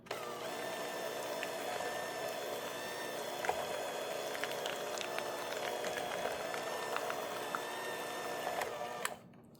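Electric mixer running on a low setting, blending sweet potato pie filling with vanilla and cinnamon: a steady, even mechanical whir with a tonal hum that holds throughout, then cuts off just before the end.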